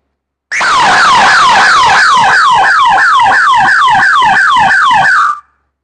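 A remote-controlled alarm kit siren, demonstrated during an industrial visit, blares loud and close with a rapid, repeating rising-and-falling wail that cycles steadily for about five seconds before cutting off.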